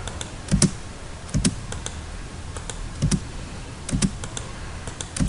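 Someone types a command on a computer keyboard while working in AutoCAD, making a few sparse, crisp key clicks and taps at close range in a quiet room, with no speech.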